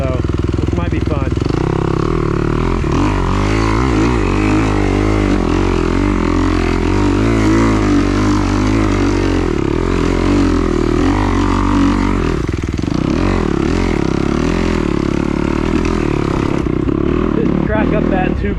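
A 2021 Kawasaki KX250XC dirt bike running loud and steady while ridden on rough trail terrain, its engine droning and shifting in pitch as the throttle changes, up close with some wind noise and clatter.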